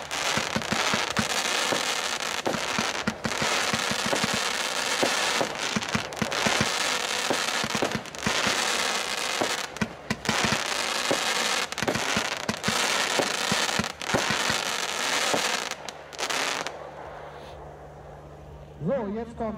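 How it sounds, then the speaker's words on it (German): A 25 mm calibre fireworks battery holding 452 g of net explosive mass fires a rapid, sustained volley of sharp bangs and crackling bursts for about sixteen seconds, loud and close. It ends in quieter residual crackle, and voices can be heard during the show. "Als nächstes haben wir die Batteriedruckwelle 452 Gramm NEM, Kaliber 25 mm."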